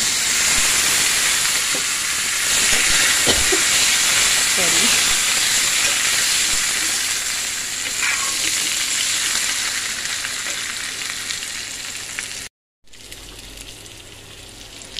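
Potatoes dropped into hot oil in a home kitchen pan, giving a loud, continuous sizzling hiss that fills nearly the whole clip before a brief cut-out.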